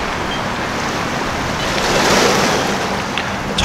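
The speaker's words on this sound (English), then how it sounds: "there's just some serious waves coming in off the boat" Heavy waves surging and washing against a boat, a dense, loud roar of surf with wind buffeting the microphone, swelling briefly in the middle.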